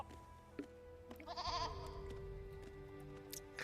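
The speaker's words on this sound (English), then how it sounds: "Prize-winning goat like Gleda." A goat in Skyrim gives a short bleat over quiet game ambience and a low steady tone, faint and somewhat distant, one brief wavering call.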